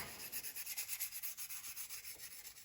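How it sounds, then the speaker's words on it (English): Rhythmic back-and-forth sanding on the plastic wing leading edges of a Tamiya 1/48 F4U-1A Corsair model kit, about a dozen quick close strokes, soft and alone. "I'll continue on with sanding it"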